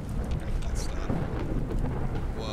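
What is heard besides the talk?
heavy rain and thunder in the video game Fallout 4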